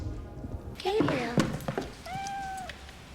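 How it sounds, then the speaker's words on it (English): A cat meows once in a scene from the 1994 film The Crow, a short rising-falling cry heard after some soft thumps and movement, with low background noise. "Wait, that cat survived?"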